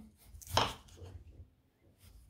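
A knife slices a potato into medium rounds, giving one sharp cutting stroke near the middle and a few softer taps, close and quiet with no talk.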